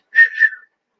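A person whistles a short two-part tune, a bright clear tone rising then held, close and alone against silence.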